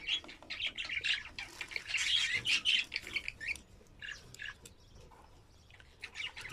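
Budgerigars bathing in a water dish in hot weather, giving bursts of rapid chirps and squawks that are fairly quiet and close, with short pauses, and a few calls near the end.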